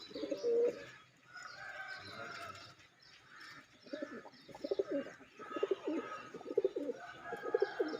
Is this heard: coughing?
no